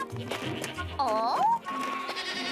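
A bleating call with a rising, wavering tone cuts in briefly over background chatter and music in an animated cartoon, sounding like a goat calling from nearby.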